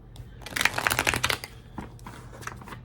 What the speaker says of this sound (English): I'm going to shuffle again, and then I'm going to pick the top 3